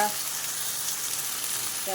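Ginger and chilli paste sizzling in a pan of oil with fried fish and pumpkin, a steady bright hiss of frying that holds evenly throughout, with a faint voice at the start and end.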